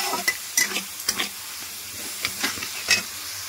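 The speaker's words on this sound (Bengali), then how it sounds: "এবার মশলাটাকে ভালো করে আমি কষাবো।" Ground spice paste is stirred and fried in hot oil left over from frying potatoes, with a steady sizzle broken by irregular scraping strokes of the spoon against the pan, close and moderately loud.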